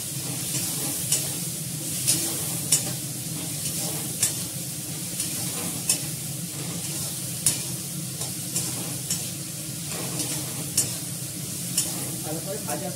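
Food sizzles steadily in a hot pan while a utensil scrapes and taps it at regular intervals, close and moderately loud.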